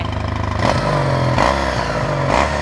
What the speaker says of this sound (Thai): ยังคงเป็นท่อเดิมครับมาฟังเสียงท่อคันนี้กันหน่อย